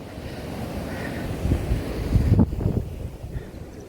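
Wind blows steadily by the lake in St. Moritz, Switzerland, at 1,822 m, a continuous rushing buffet of air that swells into stronger gusts midway, with no voices.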